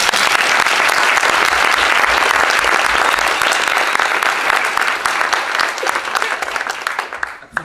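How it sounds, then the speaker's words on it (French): An audience claps in a sustained burst of dense applause that stays loud and even for several seconds, then thins and fades toward the end. "je viens ici, je me fais applaudir"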